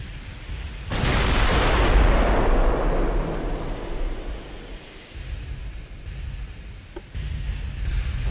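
Battle cruiser naval gunfire in Ultimate Admiral: Dreadnoughts: one heavy blast that swells into a long roaring rumble and fades slowly, followed by lower, quieter rumbling.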